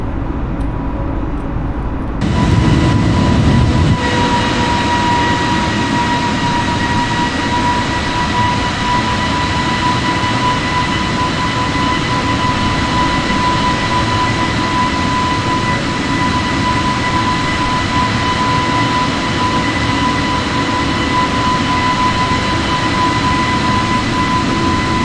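Airliner in a flight simulator game climbing after takeoff on autopilot, a steady droning engine and airflow hum with constant tones, after a sudden louder burst near the start, with no talking.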